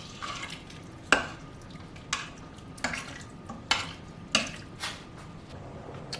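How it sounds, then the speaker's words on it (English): Chicken and wild rice soup being stirred in an Instant Pot, with about seven regular scraping knocks of the spoon against the pot's metal side, close and clear over a faint background. "And I'll give that a stir."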